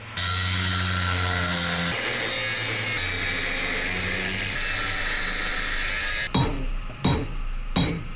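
A generator-powered cutting tool grinds through the welded torsion axle of a Carson enclosed trailer, a loud continuous whining cut lasting about six seconds before it cuts out into a few short clanks and scrapes.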